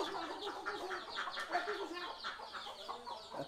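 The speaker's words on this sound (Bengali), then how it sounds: "ও আচ্ছা, এখানে মুরগি।" Chickens clucking steadily in a farm room housing poultry and ducks, a dense overlapping chorus of nearby hens throughout, fairly quiet and without talk.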